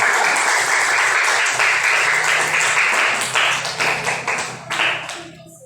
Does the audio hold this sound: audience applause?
yes